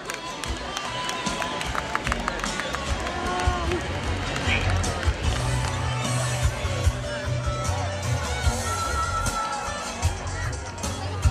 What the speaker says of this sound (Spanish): pedirles que aplaudan a cada una de las candidatas